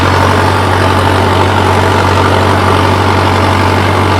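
A tractor engine pulling a cultivator in a farm field runs steadily throughout, a loud, close, continuous low diesel drone with no talk over it.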